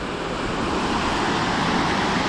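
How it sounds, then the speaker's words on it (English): Mud Creek Falls in Sky Valley roars as a steady, close wash of falling water, loud and unbroken, with no voices. "one last look at Mud Creek Falls here in Sky Valley"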